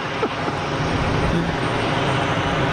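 A Saudi airliner on short final at Geneva Airport roars close overhead as a loud, continuous, broadband engine rumble that holds steady throughout.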